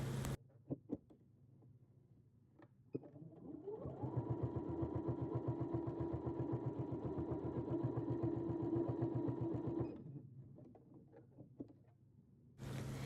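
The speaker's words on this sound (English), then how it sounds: "With my stitch length increased and my needle down, I sew" A sewing machine stitches quilt binding with a long, even run of rapid mechanical whirring lasting about six seconds, with a few light clicks before it starts and after it stops.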